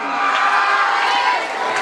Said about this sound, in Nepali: बहिनीहरूलाई तालीले सहयोग गरौँ।